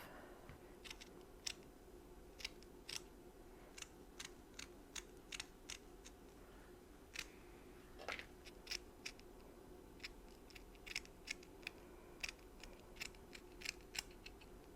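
Scissors snip excess fabric off a glued bunny ear, a long run of crisp close clicks at an uneven, unhurried pace against a quiet room.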